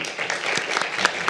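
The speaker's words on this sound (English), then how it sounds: "Applause." A conference audience applauds in a dense, steady wash of many hands clapping, heard at moderate distance with no talking over it.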